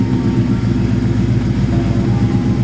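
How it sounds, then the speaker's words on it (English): A nitrous Mustang V8 with aggressive cams idles at about 850 rpm, giving a steady, loud, close, low rumbling lope with uneven pulsing beats and no voices. "with the cams, my idle's about 850. You know, to get that good lopey sound"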